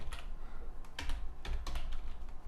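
Keys clatter on a computer keyboard while code is typed into a web editor, bursts of quick keystrokes arriving in uneven clusters, close up and alone with no talking.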